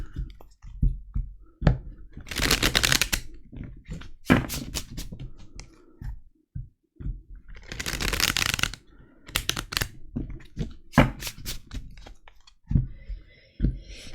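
Oracle cards are shuffled and drawn for a six-card spread, giving repeated bursts of riffling and flicking that run in irregular clusters with short taps and pauses between them. The sound sits close and fairly loud, with no voices.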